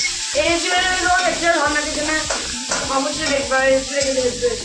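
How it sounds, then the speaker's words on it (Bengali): Pieces of stale roti fry in a pan with a busy crackling sizzle, broken by scraping stirs at fairly regular intervals, while a voice talks over the cooking. "পাপড়ের মতো খড় খড় করে অনেক ফেলে ভেজে তুলে নেওয়া যায়"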